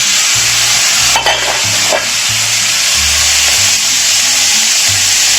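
Chopped onions fry in a pan for a village-style bottle gourd stir-fry, giving a loud, steady sizzle with a low rumble of stirring and a couple of sharper scrapes partway through.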